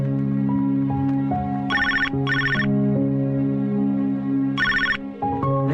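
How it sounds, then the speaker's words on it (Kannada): A telephone rings in repeated short trilling bursts, moderately loud, over a steady sustained musical background with no talking. "ರಿಂಗ್ ಆಗ್ತಾ ಇದೆ."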